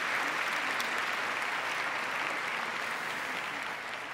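An audience at a public conversation with the Dalai Lama and Dr Sayyed Hossein Nasr claps in a dense, steady wash of applause that fills the room and eases off slightly at the end.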